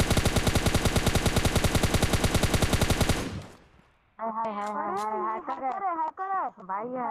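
Rapid automatic gunfire in the mobile shooter PUBG Mobile Lite, a loud, even stream of shots lasting about three seconds before fading, followed by someone speaking.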